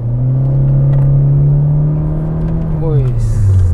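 A turbocharged Honda Civic engine revs up with a steady droning pitch, then the note drops as it winds down, loud and close.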